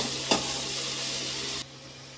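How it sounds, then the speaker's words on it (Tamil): Onion, tomato, green chili and garlic sizzle loudly with salt in a hot pan while being stirred, with a brief scrape near the start and a steady frying hiss that cuts off abruptly. "சால்ட்டு கலந்துக்கிட்டு நல்லா கொஞ்சம் வதக்கி விட்டுக்கணும்"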